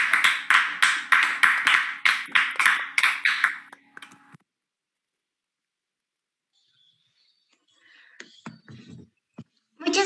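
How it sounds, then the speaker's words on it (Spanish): Applause for students at a virtual physics showcase, heard as a burst of rapid clapping over a connected microphone for about four seconds, then silence, followed by faint scattered claps and a brief voice at the end. "Démosle un aplauso."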